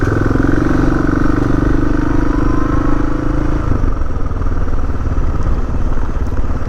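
Motorcycles ride through a ferry terminal while heading to board a ferry near Istanbul, their engines a loud, constant, close rumble that eases slightly partway through, with no talking.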